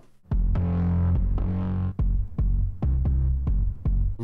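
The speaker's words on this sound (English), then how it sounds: "Add some EQ, overdrive, reverb, compression, and that sounds like this now" A synth bass patch built from a shared sample and run through EQ, overdrive, reverb and compression plays a loud, gritty riff of sustained and short notes with punchy attacks, heard alone without any voice.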